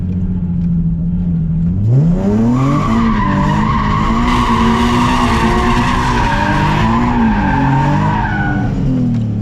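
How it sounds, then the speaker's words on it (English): Nissan 370Z doing a burnout, its engine revving hard with rising and wavering pitch while the tires squeal steadily, very loud and close for the full stretch with no talking. "You have never even done a burnout before."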